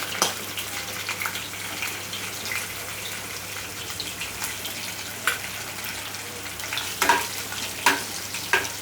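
Cumin and curry leaves sizzle in hot oil for a Konkani masur bhaji, a steady crackling fry with sharper pops and spits near the end.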